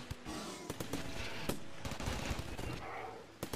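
Rapid video-game gunfire from the colony sim RimWorld rattles in dense, repeated bursts throughout, moderately loud and continuous with sharp individual shots.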